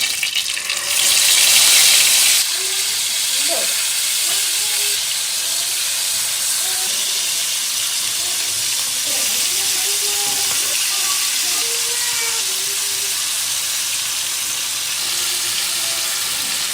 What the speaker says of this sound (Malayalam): വളരെ പെട്ടെന്നുള്ള മീൻ വറക്കലായിരുന്നു കേട്ടോ.